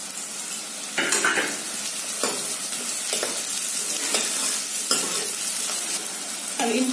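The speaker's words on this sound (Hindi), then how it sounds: "अब इन प्याज को हम हल्का ब्राउन होने तक ऐसे ही चलाते रहेंगे।" Finely chopped onions fry in a pan for matar paneer, giving a continuous close sizzle with a spoon scraping and stirring at a steady rhythm, roughly once a second, no voices.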